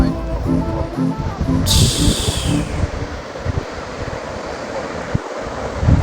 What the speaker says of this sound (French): Regardez les vagues, l'eau, le sable, tout.